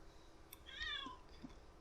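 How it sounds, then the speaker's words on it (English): A kitten gives a single soft, high meow near the middle, faint under a steady quiet background hum. "Hi, kitten."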